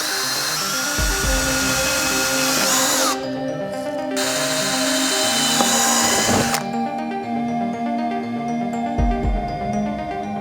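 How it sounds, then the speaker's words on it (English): A power drill boring holes into a car bumper while fitting a front splitter to a MK7.5 GTI, loud and close, with steady high whine running continuously, briefly dropping off and resuming, no talking. "I'm gonna start drilling."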